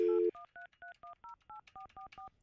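A telephone dial tone followed by a quick series of touch-tone keypad beeps as a number is dialled, evenly spaced short tones, clear and close with no talking over them.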